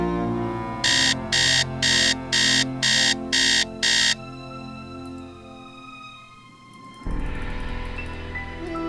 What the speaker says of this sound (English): so let's set an alarm. Beep beep beep.